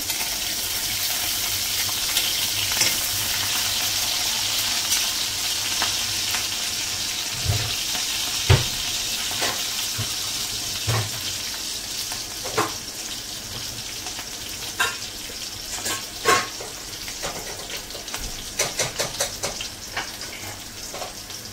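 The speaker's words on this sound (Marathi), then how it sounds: "तर आता आपण मी फोडणीला घालून घेऊया. तर पहिल्यांदा लसूण घालून घेऊ," Garlic and green chili sizzle and crackle in hot oil for a tempering, a steady loud frying hiss with scattered sharper pops and stirring clinks, no voices.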